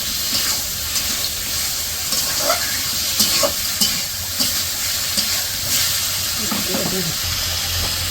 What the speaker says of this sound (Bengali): তো এখন দেবো মাছ, যে মাছগুলা কষিয়ে নিব মশলার সাথে।